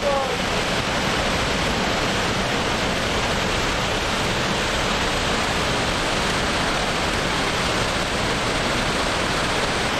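A dense, constant roar of a waterfall heard from below the falls, loud and unbroken throughout.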